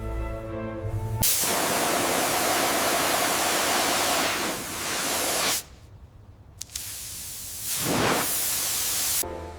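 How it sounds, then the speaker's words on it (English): A pressurized water stream blasts grime off a 1936 Bugatti Type 57 Atlantic, a loud, broad steady spray hiss in long passes, cutting out briefly twice before resuming close up. "the pressurized stream begins to reveal the iconic chassis beneath the decades of sediment"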